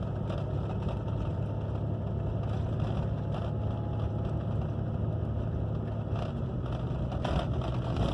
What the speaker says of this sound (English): Something I hear now that I'd never heard before was the turbo whine